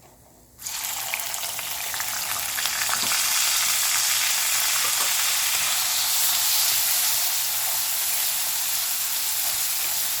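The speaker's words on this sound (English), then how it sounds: "I'm going to add the chopped tomatoes first." Chopped tomatoes hit hot oil with sizzling cumin and coriander seeds on high flame, setting off a sudden loud burst of frying. The crackling hiss then settles into a steady, dense sizzle close by.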